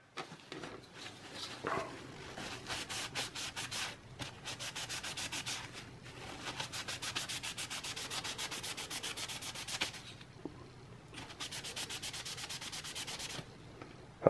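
A CPU on a Dell Precision T3500 wiped with a paper towel and 91% rubbing alcohol, close rhythmic rubbing strokes in several steady stretches separated by short pauses.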